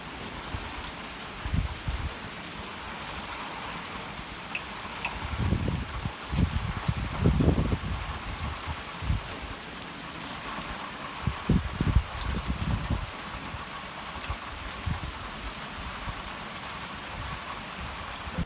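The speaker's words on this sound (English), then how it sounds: "it's raining" Steady rain falls outside, a continuous soft patter with occasional louder drops and low thuds, moderately close, with no voices.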